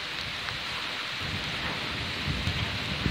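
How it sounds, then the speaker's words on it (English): Steady rain hisses down near the erupting Kilauea volcano in Leilani Estates, Hawaii, a dense close wash of drops with occasional heavier spatters and no pauses. "It's rainy"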